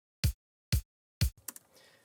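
A kick drum sample plays on each beat: three identical, evenly spaced, punchy low thumps about half a second apart, followed by a brief fainter tail of softer hits.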